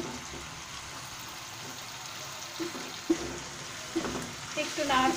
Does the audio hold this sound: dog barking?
no